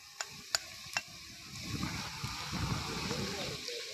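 Small bread kebabs fry in hot oil, a few sharp taps at the start giving way to a gentle bubbling sizzle that swells slightly and continues quietly.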